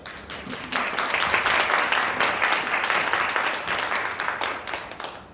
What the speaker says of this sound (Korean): 뜨거운 따뜻한 박수로 환영해 주세요